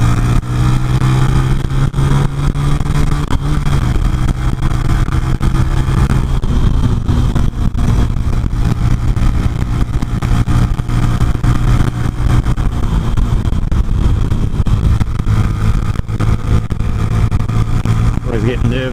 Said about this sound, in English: Always get nervous sitting with an air-cooled engine idling away at a light.